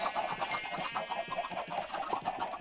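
Rapid, overlapping clucking from several Minecraft chickens patters on continuously over a steady synthetic hum, loud and close, without speech.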